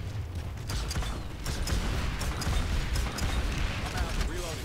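Gunfire in the Planetside 2 online shooter game: distant rapid shots crackle through a dense, steady wash of game noise and mechanical rumble, with voices talking over it.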